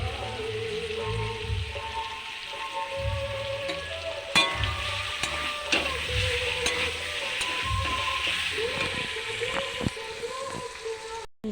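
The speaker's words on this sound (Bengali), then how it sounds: "চিকেনটা একদম গ্যাস কমিয়ে ভাজ করছি" Chicken fries gently over a low gas flame with ginger paste, giving a steady crackling sizzle punctuated by occasional sharp clicks and scrapes of stirring, close and continuous.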